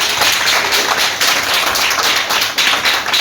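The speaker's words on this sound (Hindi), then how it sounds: "उनके लिए बहुत जोरदार तालियां।" Loud applause for a teacher from a high school at a school cleanliness-fortnight event; dense, close clapping from a crowd, unbroken and vigorous for the whole few seconds.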